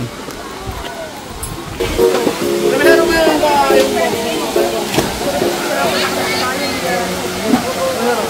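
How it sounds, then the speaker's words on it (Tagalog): Bulinaw Falls, the main waterfall in Pangasinan, gives a steady rush of falling water under people talking nearby, who are louder than the water much of the time. "Ito daw kasing Bulinaw Falls 1 na ito. Ito yung pinaka mother falls nila."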